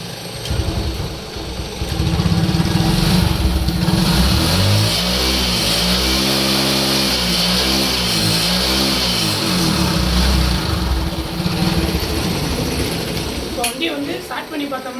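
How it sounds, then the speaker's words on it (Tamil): A small engine of a TVS XL 100 moped runs steadily and close by, its idle rising into a revving hum midway before settling back, with a voice speaking over it. "இன்ஜின் சவுண்டு நல்லா ஒரிஜினாலிட்டியாக இருக்குது"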